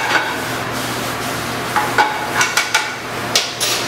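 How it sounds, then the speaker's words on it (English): Oyster and button mushrooms saute in infused olive oil in a pan, giving a steady soft sizzle with scattered sharp clinks and taps from a utensil against the cookware, close and moderately loud. "So I'm just going to let that saute up."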